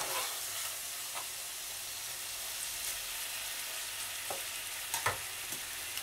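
Chicken stir-fried in oil with roasted chili paste, a gentle continuous sizzle with a few light clicks and scrapes of a utensil near the end, quiet and close.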